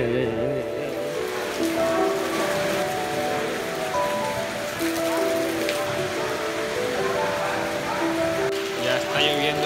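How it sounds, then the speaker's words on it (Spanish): Heavy downpour hisses continuously with dense patter, while a voice talks intermittently over it. "Ya está lloviendo, pero a cántaros."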